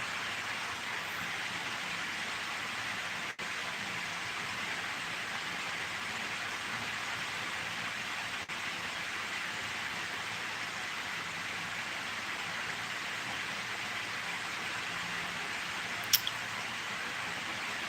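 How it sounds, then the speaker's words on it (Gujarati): Steady, even hiss of rainfall fills the whole stretch, soft and continuous, with no voices and only a couple of tiny clicks. "વરસાદ છે"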